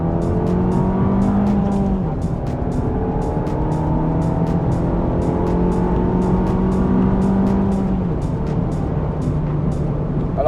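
An Abarth 595 Scorpioneoro in sport mode downshifts and accelerates, its engine note climbing steadily and loudly with a gear-change dip midway, under constant road and wind roar.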